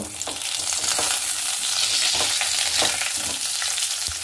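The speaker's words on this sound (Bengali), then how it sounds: "এইবার এই ফোড়নটার মধ্যেই আমি পটলগুলোকে আগে ভেজে নেব।" Pointed gourd (potol) being fried in hot oil over a whole-spice tempering: a loud, continuous close-up sizzle with occasional soft stirring taps.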